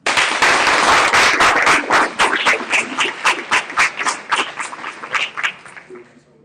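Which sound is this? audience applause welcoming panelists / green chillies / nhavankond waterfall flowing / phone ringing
audience applause welcoming panelists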